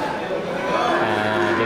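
Local beef cattle low in a pen, with a drawn-out moo rising out of a dense, noisy farm background close by.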